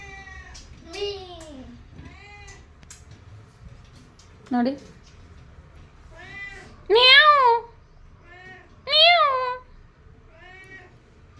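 A house cat meows repeatedly while circling around someone's feet, several clear, close, rising and falling cries spread over about ten seconds, with a few quiet spoken words in between.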